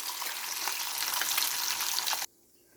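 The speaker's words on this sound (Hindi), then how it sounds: "यहाँ पर मैंने अपनी सारी चॉप्स फ्राई कर ली हैं।" Lamb chops fry in hot oil for a Pakistani recipe, a dense, steady sizzle with crackling pops running loud and close for about two seconds before cutting off abruptly to near silence.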